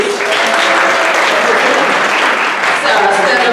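A crowd at a church mad-science show claps loudly for a volunteer, dense sustained applause with a faint voice beneath it and a brief dip near the end.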